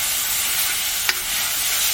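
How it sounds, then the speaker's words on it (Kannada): Ginger-garlic paste, garlic and tomato frying in a pan for a fish dish: constant close sizzling with a single brief utensil scrape partway through. "ಈಗ ಚಂದ ಮಾಡಿ ಫ್ರೈ ಮಾಡುವ."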